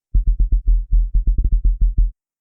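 A dry synth bass plays a choppy pattern of about fifteen short, punchy low notes in an uneven rhythm, with no phaser or wave shaping, close and clean with nothing else heard.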